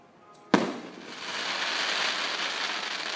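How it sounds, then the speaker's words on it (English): A fireworks display in Goleta, California: one sharp nearby bang followed by a long crackling, rain-like hiss that lingers for several seconds. "We're just watching fireworks right now."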